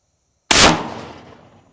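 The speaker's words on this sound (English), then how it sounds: "12 gauge against our anvil." A 12 gauge shotgun slug fired at an anvil gives one sharp, loud bang whose ring fades over about a second, alone and with no talk.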